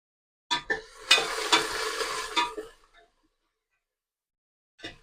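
Chopped onion and green chillies hit hot oil with mustard seeds in a pan, giving a loud sizzle with stirring scrapes for about two seconds before it fades, then a brief clink of a utensil.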